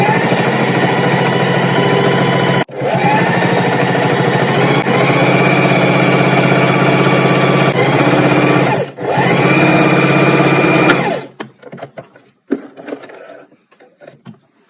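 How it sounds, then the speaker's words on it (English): A sewing machine stitching the side seam of an A-line dress, running in long steady loud buzzing bursts with two brief pauses, then stopping and giving way to light fabric handling and small clicks. "Now I'm going ahead to sew the side of the dress."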